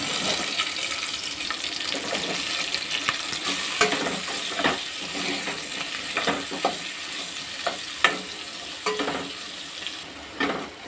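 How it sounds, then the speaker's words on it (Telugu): Capsicum frying in the same oil used for paneer, a steady close sizzle in the pan with scattered stirring clicks and scrapes throughout, no talking. "ఇదే ఆయిల్లో క్యాప్సికం ఫ్రై చేసుకోవాలి"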